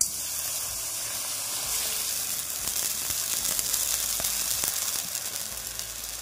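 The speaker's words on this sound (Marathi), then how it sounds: "इथे मी हे अर्धा वाटी पाणी टाकून घेतलं." Half a cup of water poured into a hot pan for modak dough sizzles and hisses steadily throughout, with a few faint clinks, close and fairly loud, with no voices.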